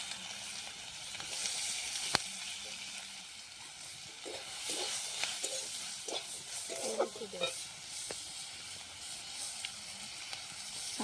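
Chopped onion going into hot oil for a prawn malai curry, giving a steady close sizzle with scattered crackles and spoon scrapes throughout, and no talking.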